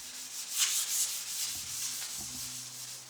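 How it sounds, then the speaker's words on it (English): Rhythmic rubbing of 600-grit sandpaper across a smooth painted Ford Ranger bumper, close up, with steady back-and-forth strokes and no talking. "So start sanding."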